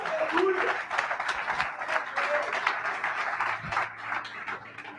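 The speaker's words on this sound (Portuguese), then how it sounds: "Você pode aplaudir a Jesus para isso?" A church congregation claps together in a dense, steady patter of applause, with voices mixed in, easing slightly toward the end.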